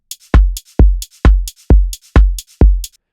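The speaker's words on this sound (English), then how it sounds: "We have a drums group here, sounds like this." Electronic house drum loop at 132 BPM, a deep punchy kick on every beat with crisp hi-hat ticks between, steady, loud and close with no voices.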